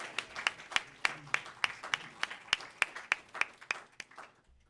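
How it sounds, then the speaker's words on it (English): An audience at a town board of commissioners meeting claps in a crisp, evenly spaced round of applause, fairly close and fading out at the end. "I think that we need a round of applause."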